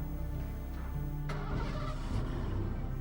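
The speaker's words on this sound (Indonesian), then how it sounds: "Kok kayak suara mobil bokap?" Car engine idling steadily nearby, then a sudden burst of noise as it revs up and keeps running louder for the rest of the moment, no voices.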